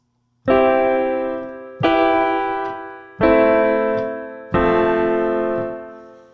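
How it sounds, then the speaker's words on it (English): Four simple piano chords are struck one after another at an even pace, each ringing out and slowly decaying before the next. "Option A, I'm going to play 4 simple chords."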